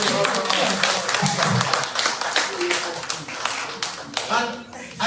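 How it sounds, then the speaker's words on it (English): A room of attendees at a meeting of registered political parties clapping in a burst of applause, with talk mixed in and the clapping thinning out toward the end. "Let us clap for them, please."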